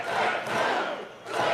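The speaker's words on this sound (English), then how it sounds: "This crowd cheering on Tony Gunn, wanting to see him climb that ladder one more time" Crowd at an indoor professional wrestling show cheering a wrestler during a ladder match, a loud roar of many voices that swells, dips briefly, then surges back.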